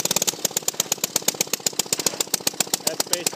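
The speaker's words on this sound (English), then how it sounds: "That's basically how you rev the engine up and down." An antique Merry Garden Auto Cultivator garden tractor engine runs close by with loud, rapid, evenly spaced exhaust beats, its pace shifting slightly as it is revved up and down.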